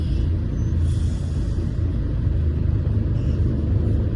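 A truck's wheels spin on an unpaved dirt track, a steady heavy rumble of engine and tyres that stays loud and close throughout, with no talk.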